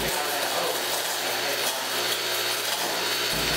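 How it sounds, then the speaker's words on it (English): A 3SL metal disintegrator with a portable arcer head, chucked in a drill press, erodes a broken tap, giving off a loud, harsh, continuous buzzing hiss up close from start to end. "The model we're using is a 3SL metal disintegrator that comes with a portable"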